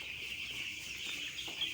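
Broiler chickens on a farm clucking, a dense steady flock murmur, moderately close and continuous, with no voices.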